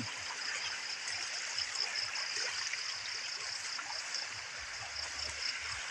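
Steady running water flows and trickles continuously, fairly soft, with no voices.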